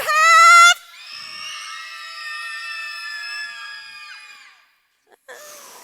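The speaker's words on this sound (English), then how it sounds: "to scream like a little girl on the playground" Girls at a family fun day scream on cue, a sharp shriek followed by a long sustained chorus of high-pitched screaming that fades out, then a brief fresh burst; no talking.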